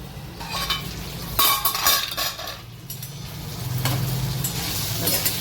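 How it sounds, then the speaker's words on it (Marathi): Brinjal and potato sauté in a pan, a steady close sizzle broken by several spatula scrapes and clinks against the metal, with no voices. "दोन मिनिट छान वांगे छान वाफवून घेऊ"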